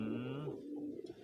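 A dove gives a single soft, low coo close by, with a faint trailing note and quiet surroundings.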